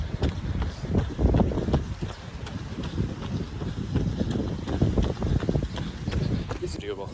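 Gusty wind buffeting a microphone during an outdoor road run at a steady pace, low rumbling bursts that swell and fade unevenly throughout.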